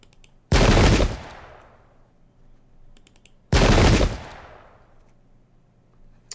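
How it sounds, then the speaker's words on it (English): Two massed musket volleys from Pike and Shot gameplay of the 1691 Battle of Slankamen, each a loud crackling burst of overlapping shots about three seconds apart, trailing off into a faint rattle between them. "Oh, the return fire is devastating."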